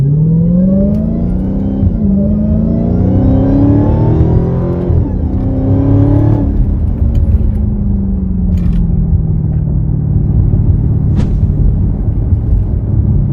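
A supercharged Hellcat Widebody with muffler delete revs hard with rising and falling pitch, a loud, close exhaust roar and supercharger whine that climbs, drops, then settles into a rumbling cruise.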